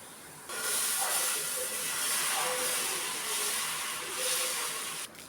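Garlic powder dosa sizzles on a hot griddle, a loud, steady close hiss that rises suddenly and holds unbroken for several seconds before easing near the end.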